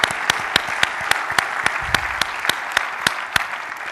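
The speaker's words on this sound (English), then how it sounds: "maybe another great round of applause for Duncan Wise and Jeremy Rogers" Applause from a business summit audience in Oregon, steady dense clapping with a few sharp louder claps standing out, sustained evenly throughout and heard alone without talk.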